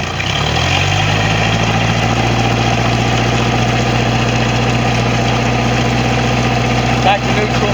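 A Mercruiser 3.0L inboard engine on an Ebbtide 140 boat with a failing front motor mount, running steadily in forward gear with a loud, close, continuous low droning hum and slight vibration throughout.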